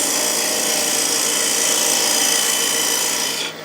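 A steady, continuous rasping cut as a turning tool shaves a wooden bowl on a spinning lathe, close and loud, with no talking, tapering off at the very end.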